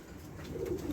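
A pair of Black Romagnol pigeons at a farm giving a short low coo, faint and close, with no talk over it.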